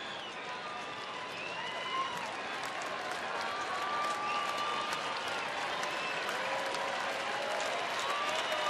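A Rangers home crowd at a Cleveland–Texas baseball game applauds steadily in support of their pitcher, a dense, sustained wash of clapping with faint scattered shouts throughout.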